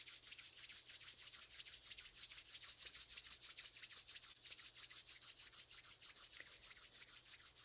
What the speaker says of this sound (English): take both hands and rub them together to create a little friction here